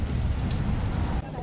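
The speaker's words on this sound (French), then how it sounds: "Il pleut." Rain falls on a bikepacking route heading toward Palermo, heard as a brief, steady patter and wash under a low rumble, with no voices.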